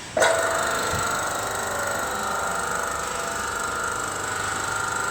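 Mollar T800 / APS 1200 airless paint sprayer running in priming circulation, a steady close mechanical drone with a sharp start, holding an even buzzing level throughout.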